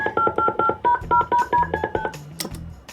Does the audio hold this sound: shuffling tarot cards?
no